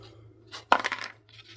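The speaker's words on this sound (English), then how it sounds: "So I only need one of my little dice, and I'm going to roll." A small die is rolled for a board game, giving a quick clatter and tumble of brief knocks lasting under a second, close and fairly quiet, with no talk.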